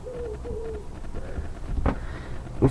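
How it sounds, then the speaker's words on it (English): A pigeon coos in an attic that houses a model railway. A few soft, low coos come early, then quieter room noise and a couple of brief knocks. "Don't know if you can hear that pigeon."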